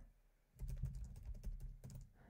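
Quick bursts of keystrokes on a computer keyboard, a short run of close, quiet clicks and taps with a brief pause before a final few presses.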